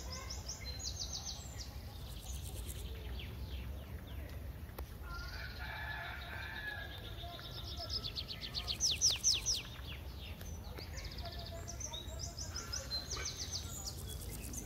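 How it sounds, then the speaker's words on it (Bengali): Birds chirp and call steadily in a garden nursery, with a rooster crowing and hens clucking among them; the calls are fairly distant and layered over a constant outdoor background, with a brief louder burst partway through. "সাথে পাখির করতাল, কিচিরমিচির শব্দ"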